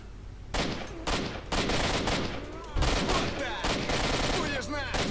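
Gunfire in S.T.A.L.K.E.R. Shadow of Chernobyl, loud rapid bursts and volleys of automatic shots repeating across the moment.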